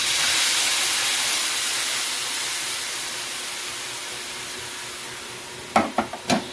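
Sauce hits frying milkfish in a hot pan, giving a loud, steady broadband sizzle that gradually fades, followed near the end by a few sharp utensil clinks against the pan.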